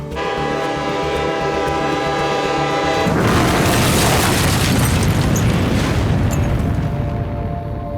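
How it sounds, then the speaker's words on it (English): A loud, sustained train horn blares, then a massive train explosion erupts and roars on in a remote northern North Korean town, filling the space for several seconds before fading slightly. "there was a massive train explosion in northern North Korea"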